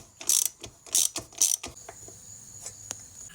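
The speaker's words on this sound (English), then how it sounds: "you're going to have to loosen the axle nut and then loosen up these chain adjusters" Ratchet wrench clicking as a motorcycle's rear axle nut is loosened for chain adjustment, with a few loud bursts of rapid ratcheting up close, then quieter scattered clicks.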